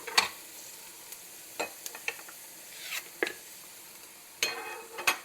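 Onions sizzle softly in a pot under intermittent stirring, with several sharp scrapes and clinks of a utensil against the pot.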